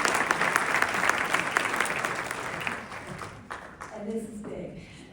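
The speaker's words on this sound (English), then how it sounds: "Let's give them a round of applause for all that they do for our community." An audience at a county teacher-of-the-year awards ceremony claps for elected officials, a full round of applause that gradually thins and fades toward the end, with a little talk at the close.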